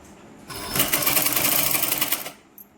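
A sewing machine stitches a dress in a steady burst of fast running stitches lasting about two seconds, close and fairly loud, then stopping abruptly with a brief click after.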